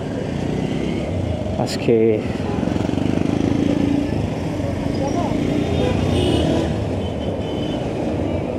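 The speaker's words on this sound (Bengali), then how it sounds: "মজায় বাইক চালাচ্ছি" Motorbike riding through city traffic in Khulna in monsoon weather, a steady rumbling engine and road noise continuing throughout, with someone speaking briefly over it.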